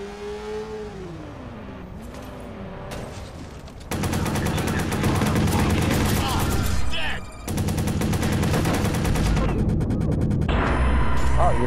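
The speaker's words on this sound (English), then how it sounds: "Look out, he's shooting!" Gunfire in the video game Watch Dogs: loud, dense bursts of shots and crashing action sounds fill most of the stretch, with a car engine and a voice heard early on.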